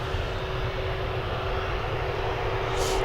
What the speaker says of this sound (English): on the runway then we've got the Jet 2 going to Fuerteventura